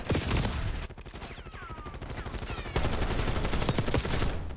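Rapid, repeated gunshots from a shotgun in the video game Call of Duty Black Ops 6, loud bursts stacked closely together over several seconds with a brief lull in the middle.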